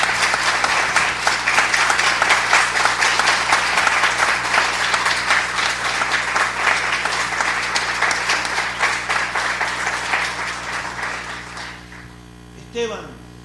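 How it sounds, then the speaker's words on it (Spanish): A church crowd applauds loudly and steadily for several seconds before the clapping fades away, leaving a low electrical hum. "Dale un aplauso al Señor si tienes ganas."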